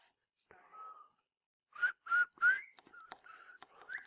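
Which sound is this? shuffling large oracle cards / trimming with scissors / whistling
whistling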